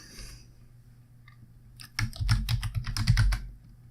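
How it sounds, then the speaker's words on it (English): Fast, irregular clatter of keys on a computer keyboard, close up, in a burst of about two seconds after a quiet pause. "I'm typing in my secret password."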